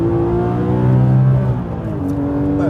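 Porsche GT3 RS with ceramic brakes carried on steady throttle through a corner, a loud close engine drone with a strong low note that drops slightly midway and then holds steady, no voices.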